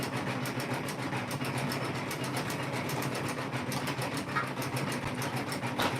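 A Janome M17 embroidery sewing machine stitches a quilt block in the hoop, a fast and steady mechanical chatter that carries on without a break. It sounds close and loud, with no voices.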